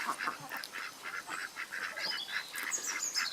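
Ducks call at dusk in a forest garden, a run of repeated honking quacks at a steady rhythm, fairly close and moderately loud, with no talk.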